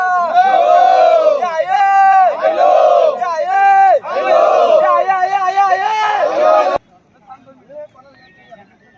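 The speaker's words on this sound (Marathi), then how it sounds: "बोला आई माऊलीचा उदो उदो आई माऊलीचा" A large crowd at a palkhi procession near Karla hill loudly chants praise to Aai Mauli in rhythmic, repeated call-like phrases, then the chanting cuts off abruptly, leaving scattered quieter voices.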